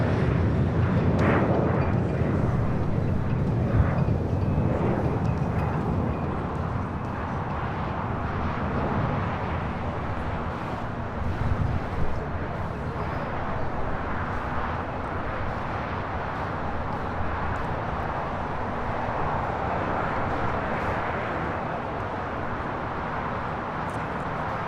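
A United Boeing 757 in Star Alliance livery takes off from runway 25 right at LAX, a loud continuous jet roar. It is steady and broadband, swells slightly near the start, and holds at a powerful level throughout.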